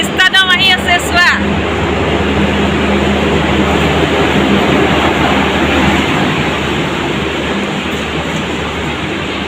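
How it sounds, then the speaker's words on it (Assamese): A Vistadome train on the Haflong–Guwhati route rolls into a station, producing a steady broad rumble with a brief voice at the start. "ভিষ্টাডম আহি আছে চোৱা"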